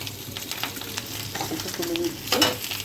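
Shrimp heads sizzle softly in hot oil with light stirring. A faint bird chirps in the background, and a brief clink or voice comes through toward the end.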